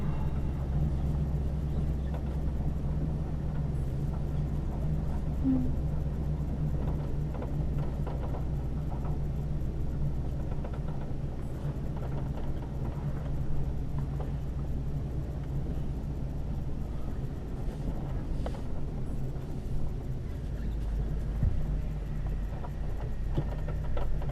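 Ford F250 pickup truck cruising on American roads, heard from inside the cab as a steady low engine and road rumble that holds constant throughout, with no talking.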